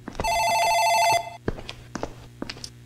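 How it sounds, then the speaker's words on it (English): An office telephone in the horror game Dark Fracture gives one loud electronic ring burst lasting about a second, followed by a few soft clicks and footsteps. "Oh, the phone is ringing? The office rings."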